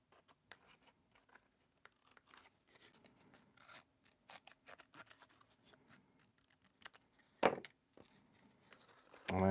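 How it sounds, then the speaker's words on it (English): Scissors trim a section of paper with a series of soft, close snips and rustles, a louder crinkle of paper near the end. "I'm trimming out the section where this kind of lives"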